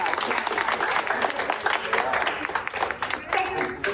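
An audience applauds at a jewellery and goods exhibition in Vanasthalipuram, the clapping steady, dense and close for several seconds, with talk and crowd noise mixed in throughout.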